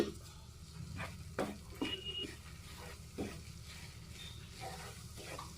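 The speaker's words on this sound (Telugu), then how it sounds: "ఇప్పుడు నెయ్యి వేడెక్కిన తర్వాత గోధుమ పిండిని వేసి బాగా వేయించుకోవాలి" Wheat flour roasting in hot ghee for laddus, a quiet low sizzle broken by several short scrapes as the flour is stirred around the pan, close and fairly faint with no voices.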